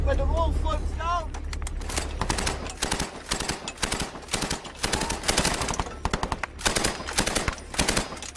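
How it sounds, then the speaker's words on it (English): Automatic gunfire in Afghanistan combat, rounds coming from at least two positions, with dense bursts and sharp single cracks. Voices are heard at the start. "Were fired on from at least 2 positions"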